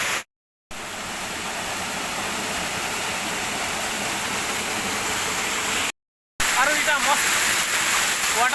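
Water plunges down a waterfall at Shri Chakra Bhairav Peeth in Dongaripali, a loud, steady roaring rush that holds constant, broken twice by brief silent gaps.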